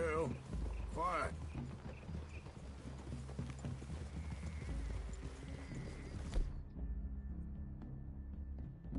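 Horse hooves clip-clop steadily in a Red Dead Redemption 2 wilderness scene, a continuous trotting rhythm under voices and background music that cuts out abruptly near the end.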